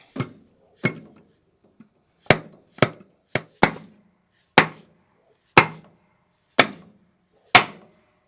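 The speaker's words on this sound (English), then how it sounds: "Give it a nice gentle tap." Gentle hammer taps seat a part on a Case 430 diesel tractor, with about nine sharp, close metallic knocks at irregular intervals, each decaying quickly into silence.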